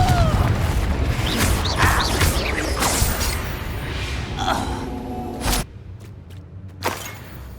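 Incendio and Confringo spells cast in the Hogwarts Legacy video game, a string of bursting whooshes and blasts amid busy combat noise, with a sharp loud burst near the end standing out from a quieter stretch.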